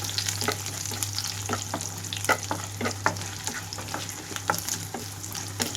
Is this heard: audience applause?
no